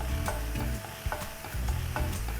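Three kinds of mushrooms and onion stir-fried in olive oil in a pan, with a spatula scraping and tossing in a steady rhythm over a continuous sizzle, close and alone.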